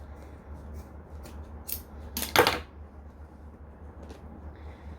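Scissors snip through thick, bulky fabric in a few short, crisp cuts, with one louder chomping cut midway, over a low steady background hum.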